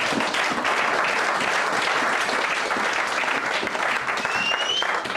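A church congregation applauds loudly and steadily, a dense wash of clapping from many hands that lasts the whole time with no break.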